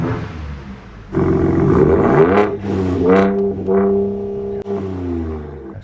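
A Ford Ranger Raptor exhaust in Baja mode, a deep loud engine rumble that rises and falls through several revs, close by.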